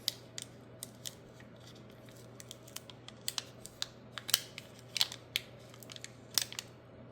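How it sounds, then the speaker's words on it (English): Metallic letters are peeled off release paper, giving a series of sharp, close crackling and crinkling snaps spaced irregularly over a faint steady hum. "I'm trying to take the release paper off."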